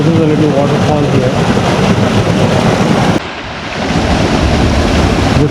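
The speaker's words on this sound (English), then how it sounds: "This is a little waterfall here." A small waterfall in the Zion Narrows slot canyon of the Virgin River, rushing loudly and steadily up close, a broad roar that dips briefly midway before swelling back.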